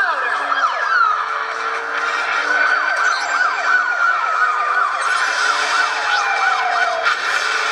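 Police sirens in the mobile racing game Asphalt Overdrive wail continuously throughout, layered wailing sweeps rising and falling steadily as the cops chase the player, loud and close with no talking.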